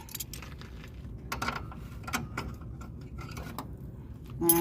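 Metal wrenches rattled and handled at close range in a junkyard, with a series of irregular clinks and jangles scattered across a few seconds over a quiet low background, and no talk.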